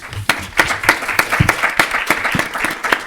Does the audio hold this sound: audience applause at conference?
yes